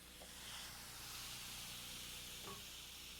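Steady, faint hiss of shrimp kebabs sizzling on a hot George Foreman grill under a closed lid, a continuous soft frying noise with a couple of small clicks.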